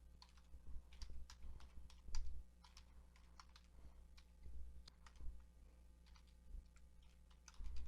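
Rapid, irregular typing on a computer keyboard during an Azure administration walkthrough, with bursts of close, crisp key clicks over a low steady hum and no talking.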